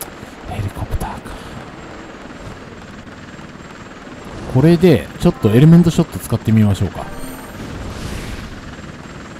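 Helicopter in the action game Bullet Witch: a steady rotor drone throughout, with someone talking over it in the middle of the clip and brief gunfire-like bursts near the end.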